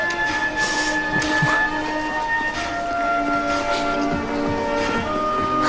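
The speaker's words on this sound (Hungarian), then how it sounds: "a vonat azonnal indul" A train departing from a station in a film scene, a steady rumbling railway drone with sustained tonal hums and occasional clanks, fairly loud throughout with no talk.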